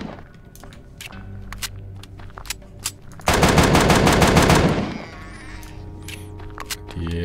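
A pistol in the Empyrion Galactic Survival game emptying a full magazine: rapid single shots in a quick rhythm, then a loud sustained burst of dense fire midway through, with a few scattered shots after it and no talk.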